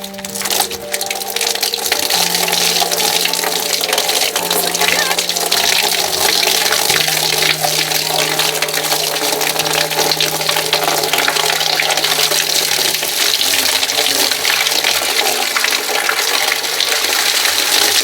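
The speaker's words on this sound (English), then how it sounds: "I'm going to pour it on the roof and we'll just see how much comes out of here" Water poured from a watering can onto a roof gushes out of a garden gutter downpipe, a loud, steady rushing splash that runs without pause, with a low tonal hum droning underneath throughout.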